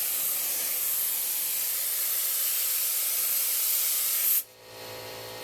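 A paint spray gun fed by an air compressor set to 70 psi, spraying unthinned paint, gives a steady loud hiss that cuts off abruptly near the end, leaving a fainter background hum.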